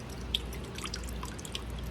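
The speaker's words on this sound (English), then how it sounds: "I love listening to the water trickle" Water trickles and drips steadily nearby, with a few sharper individual drips standing out over a soft continuous flow.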